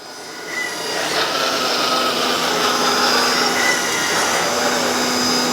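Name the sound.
1/12 RC hydraulic excavator 395F raising itself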